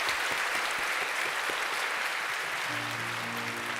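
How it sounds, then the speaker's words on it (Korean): A church congregation at a Sunday service claps to celebrate newly baptized children, a loud sustained round of applause from many people, with a low organ-like tone entering near the end. "우리 오늘 세례 받은 우리 자녀들 우리 인사하실 때 박수로 축하해 주시기 바랍니다"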